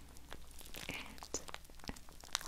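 Crinkly plastic-like rustling and crackling in soft, irregular bursts for an ASMR trigger, close and quiet with a few sharper crunches and no voice.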